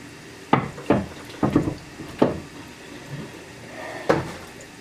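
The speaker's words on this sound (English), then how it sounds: "you're gonna take off the lid to your toilet, to your tank" A toilet tank lid is lifted off, giving several sharp hollow knocks and scrapes at uneven intervals, close and moderately loud.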